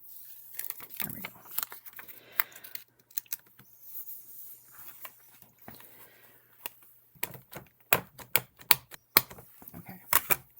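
Scissors snip through masking paper while a chick greeting card is being made, giving a run of crisp, close cuts that cluster into rapid sharp clicks toward the end, with soft paper rustling in between.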